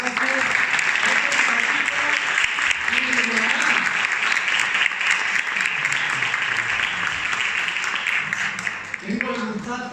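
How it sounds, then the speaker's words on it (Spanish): Sustained audience applause at a flamenco conference, dense and loud clapping filling the room for nearly the whole stretch, with voices talking over it at the start and as it tapers near the end. "Bueno, un fuerte aplauso a Rafael Vázquez."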